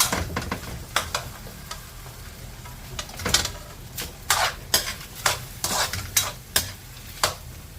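Beef tossed into a pan of sautéed tomatoes for Filipino beef menudo, sizzling steadily up close while a utensil scrapes and stirs in a series of sharp, repeated strokes.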